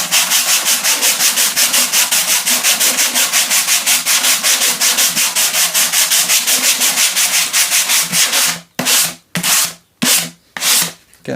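Sandpaper rubs rhythmically back and forth over a painted wooden vintage military-style gun box in fast, even strokes, loud and close. The strokes break into slower, separate scrapes near the end.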